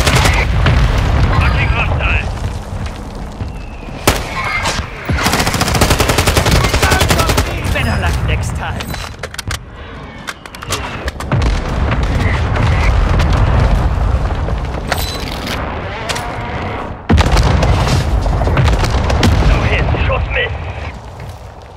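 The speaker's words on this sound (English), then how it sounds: "Mortar strike on the way." Mortar strike explosions in Modern Warfare 2 Resurgence multiplayer, heavy booming blasts and rattling gunfire repeating across the stretch, loud and dense, with voices talking over the combat.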